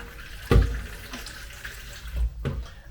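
Water from a kitchen tap runs into a small pot of washed rice, with a steady wash of flow that swells in a few louder gushes and splashes. It sounds close by, with nobody talking.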